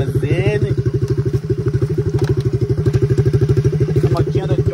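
A small motorcycle engine is run for testing: a close, loud, rapid pulsing putter at a steady idle-like pace, with brief voices over it.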